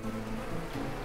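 Bees buzz near beehives in Farmer's Dynasty, a soft, continuous droning hum with gently shifting pitch, faint and steady for the whole moment.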